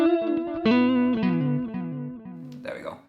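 Electric guitar notes run through a Sonicake Levitate delay pedal set to a quick delay, each plucked tone repeating in fast echoes that trail off, followed by a brief scratchy strum near the end.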